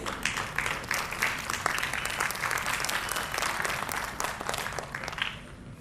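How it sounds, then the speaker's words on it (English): An audience at a community awards ceremony held by the World Malayali Council's Pune chapter gives a long, even round of applause that thins out near the end. "to give a round of applause, and you were kind enough to do so"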